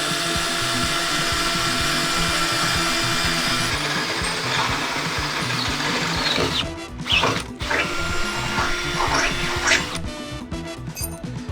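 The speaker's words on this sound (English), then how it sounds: "I'm going to be drilling the holes for the U-bolts. So let's go ahead and do that." A power drill whirs steadily at close range, drilling U-bolt holes on a 5th-generation Toyota 4Runner, its pitch shifting as it bites into metal, with brief stops and restarts near the end.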